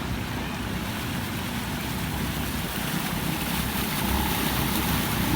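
Motorbike wading through deep flood water in Bali, a continuous churning, sloshing rush of water with a low engine rumble, steady and fairly loud throughout, building slightly toward the end.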